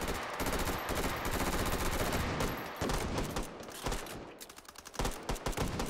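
Rapid automatic gunfire from the VR shooter Hot Dogs, Horseshoes & Hand Grenades, loud, dense bursts of shots fired as covering fire, thinning into scattered single shots near the end.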